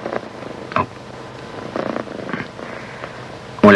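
A cat purrs in a rhythmic, low rumbling cycle of breaths from a 1970s science-fiction series scene, close and steady, ending with a sudden louder thump.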